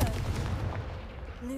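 Confringo blasting spell explosions in Hogwarts Legacy: heavy booming low rumble that starts loud and slowly decays, followed by a faint tonal ring near the end.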